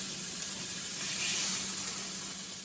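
Pepper-crusted basil bison burgers sizzle in a pan, a soft steady crackling hiss that holds evenly at low volume for a few seconds with no talking.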